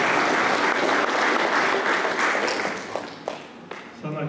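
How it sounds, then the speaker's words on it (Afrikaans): Audience applause at an Afrikaans church gathering, a dense steady wash of many hands clapping together with a few sharper claps near the end, heard alongside voices. "Ja, klap maar hande, klap maar hande."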